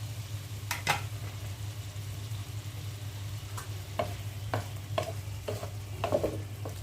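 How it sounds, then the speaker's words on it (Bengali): Spice paste and tomato being stir-fried in a pan for a fish curry with potato and tomato, heard as a quiet simmering fry under a low steady hum, broken by several sharp scraping clicks of a utensil stirring against the pan. "মশলার সাথে টমেটোটা একটু কষিয়ে নিই।"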